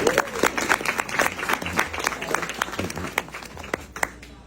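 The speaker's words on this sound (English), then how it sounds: "So let's give him a round of applause." Round of applause for a musician at an event, a burst of many hands clapping briskly and close, with a voice talking over it throughout.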